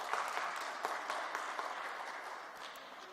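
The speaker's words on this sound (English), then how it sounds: "let us all give them a big round of applause" Many people applaud the panelists at a UN symposium plenary session, a broad, sustained wash of clapping in a large hall that gradually tapers off.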